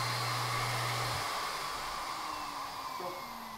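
A Miele Art S930 upright vacuum cleaner drones steadily on low speed, a close, continuous whine whose pitch shifts slightly as the motor settles.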